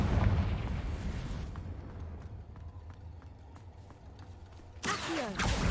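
In the Hogwarts Legacy video game, a Confringo spell bursts with a fiery explosion, a loud broadband blast at the start and another sharp crackling burst near the end, with quieter rumbling between.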